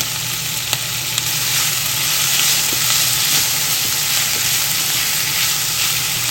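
Warabi fern shoots fry in a pan of garlic oil, a loud, steady sizzle and hiss with a few faint clicks of stirring, close by and alone.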